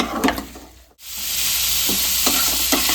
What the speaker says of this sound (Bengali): মশলার সঙ্গে খুব ভালো করে চিকেনটাকে মিশিয়ে নিতে হবে।